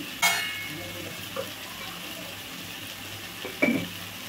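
A spoon stirs ridge gourd curry made with raw lentils and milk in a pan, giving a few brief scraping clinks over a faint sizzle, with otherwise quiet kitchen background.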